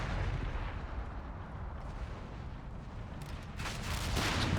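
Mortar fire in Company of Heroes 3, a low rumbling run of distant artillery blasts and booms under a continuous battle din, growing louder toward the end.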